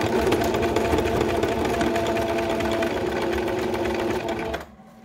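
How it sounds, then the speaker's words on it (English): A sewing machine zigzag stitching fabric and ribbon together for a doll purse, running in a steady, loud, rapid whirring rhythm before stopping abruptly near the end. "just zigzag stitch. So I'm not only protecting the fabric, I'm also sewing it together with the ribbon."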